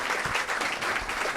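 An audience claps for a speaker at a livestock-sector transition conference: a short, dense burst of steady applause with no gaps.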